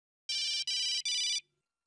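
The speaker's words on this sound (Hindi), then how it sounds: "सचिन को भी चैन नहीं, कभी भी फोन करता है।" A phone rings late at night with three short, bright electronic chirps in quick succession, clear and close, then silence.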